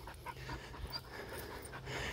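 A young female dog pants rapidly and steadily nearby during a training walk, quick rhythmic breaths with a faint whimper, no talk over it.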